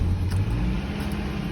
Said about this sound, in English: Haven't started this in about a month. So, new engine, first time being started.